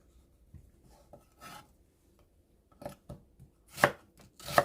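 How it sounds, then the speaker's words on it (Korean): A knife slices an onion into thin strips on a cutting board. Soft, irregular cutting strokes start faint and grow into a few sharper, louder chops toward the end, with no talking. "어섯이 아니고 채 썰어주면 됩니다."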